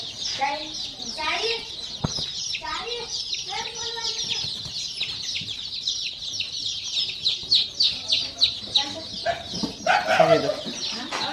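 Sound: chickens clucking on farm

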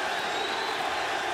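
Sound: fight crowd applauding Eddie Alvarez

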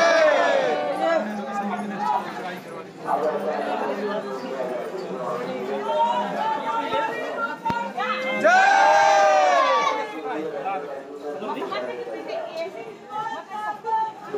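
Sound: large crowd at Maa Sharda temple during Navratri

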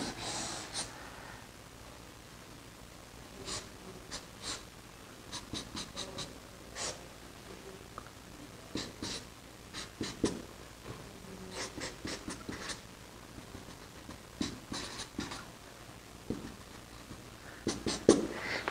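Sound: drawing a chemical structure by hand

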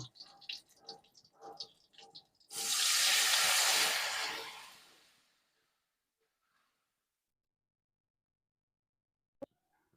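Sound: adding water to rohu fish mustard curry

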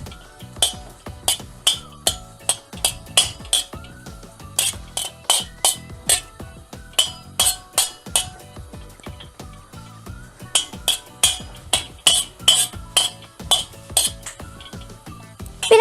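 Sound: stirring tantuni meat with tomato juice in a pan

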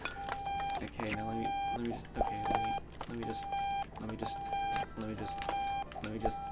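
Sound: alarm beeping in the video game Octodad

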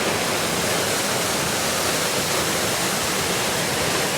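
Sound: Channat waterfall (Satkund) flowing

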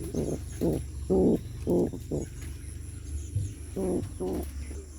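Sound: Bombay pigeon chicks cooing

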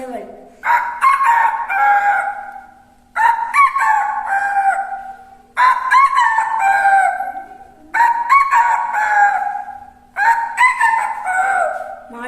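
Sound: child imitating a rooster crowing

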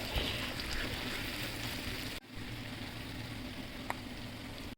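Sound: seafood lightly frying in pan for pasta

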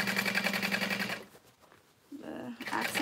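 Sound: sewing machine top stitching tote accent panel

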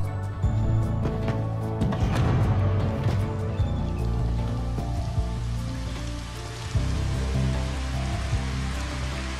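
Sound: rain weather effect in Final Fantasy XV video game

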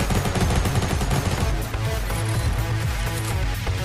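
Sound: gunfire in the video game Fortnite

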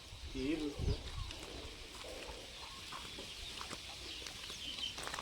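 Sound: chickens in poultry shed

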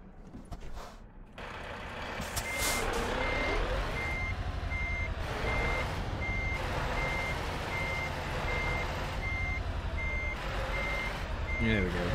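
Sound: truck reversing beeps while parking in video game Euro Truck Simulator 2

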